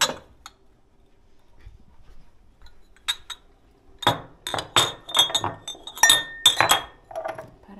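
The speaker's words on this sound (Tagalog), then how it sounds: "kuha tayo ng baso" Drinking glasses picked up in a home kitchen, clinking sharply: a few isolated taps, then a rapid cluster of bright, close clinks and knocks with no talking.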